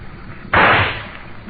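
A single sharp rifle shot fired from a ship, loud and close, bursting suddenly and then decaying over about half a second.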